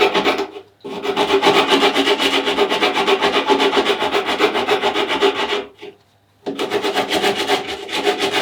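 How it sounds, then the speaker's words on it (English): Steady, continuous rasping of sandpaper scrubbing the fiberglass on a surfboard fin, with a brief pause after the first second and another short break near the end. "You just want to be sanding the fiberglass that we set it with."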